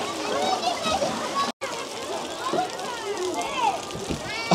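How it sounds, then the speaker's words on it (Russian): Water streams steadily along park water channels in a hissing, splashing wash, close and fairly loud, with children's voices and talk mixed in and a brief cut partway through. "Тут водичка течет."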